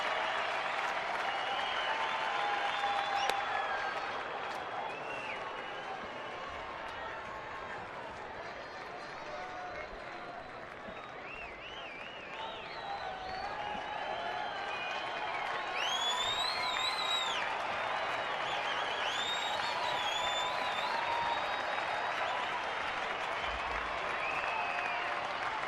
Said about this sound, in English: Crowd coming alive here at Chase